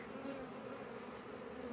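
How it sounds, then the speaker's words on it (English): A large number of honey bees fly about in a disorganised swarm near a disturbed colony, making a dense, steady buzzing drone that stays close and loud throughout with no talking. "you will probably see how disorganised the bees are. They're flying in large numbers."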